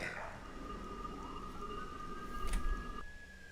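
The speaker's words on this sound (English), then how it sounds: "You'll hear sirens around Auckland." Fire engine sirens near a firefighter training facility in Auckland wail faintly in the distance, a rising and sliding tone over low background noise, with no one speaking.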